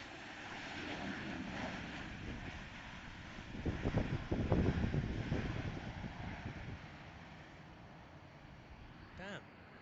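Airplane at London City Airport on a warm day, a distant jet roar swelling to a peak and then fading, heard under wind noise with a voice talking briefly.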